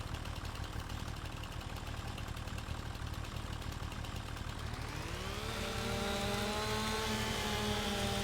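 A tractor engine idles in a logging roleplay video game, a steady low drone that shifts into a higher, tonal hum about two-thirds through, moderately loud with no talk.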